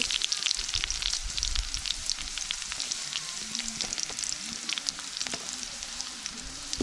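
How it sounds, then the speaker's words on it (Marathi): Garlic and spices sizzle in a hot pan, a dense crackling fry with frequent sharp pops and occasional scrapes of stirring, close and steady. "आता मसाले चांगले भाजून घेते"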